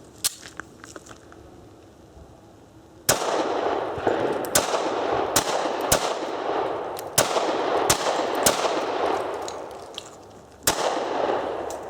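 Springfield XDs pistol fitted with a Pearce grip extension fires a string of sharp, loud shots at uneven intervals, with a couple of faint distant shots before and echoing outdoor reverberation between.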